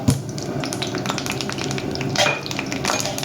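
Curry leaves fry in hot oil, giving a continuous, fairly loud crackling sizzle with small popping bursts throughout. No voices can be heard.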